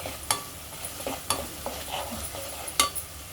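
Ginger garlic paste frying in a pan for stuffed brinjal masala curry, a low sizzle broken by irregular spoon scrapes and taps against the pan, close and without talk.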